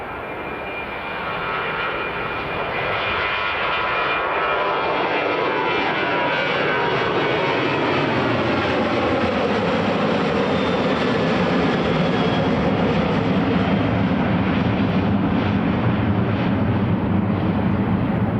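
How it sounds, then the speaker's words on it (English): A Ryanair airliner taking off from Edinburgh Airport, bound for Zadar, its engines a loud, sustained roar that builds and holds steady for the whole stretch, with the pitch slowly shifting as it passes. "Okay, next departure, another Ryanair."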